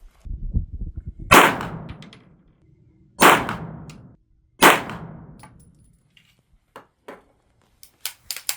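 Three sharp pistol shots from an Accuracy X pistol firing ball ammunition, spaced about two seconds apart with short decaying tails, followed by a few faint clicks and clinks.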